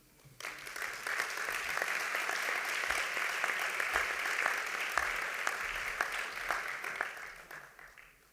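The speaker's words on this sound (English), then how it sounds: "I would like to ask you for a big applause for our authorities for participating in the ceremony" Applause from the audience at a health technology assessment conference opening ceremony, sustained even clapping from a large hall that starts abruptly and fades out near the end, heard from some distance.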